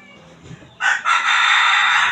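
A rooster lets out a loud, close crow that begins after a short quiet moment and holds steady to the end.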